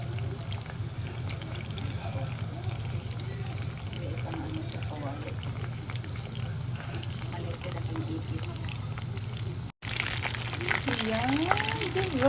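Cooking oil spattering and crackling steadily while crispy breaded chicken fries in a pan, a constant close sizzle throughout with a brief break near the end, while people talk over it.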